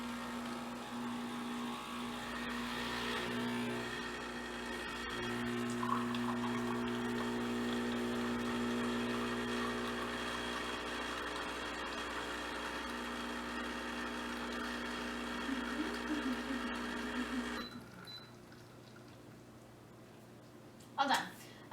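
A CBTL pod espresso machine brewing a short pour of Americano, a loud steady pump hum with tonal whine that runs for about eighteen seconds before stopping, followed by a few faint clicks.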